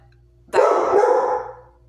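A single dog bark, close and fairly loud, stretching into a drawn-out yelping tone before fading, with quiet room tone around it and no speech.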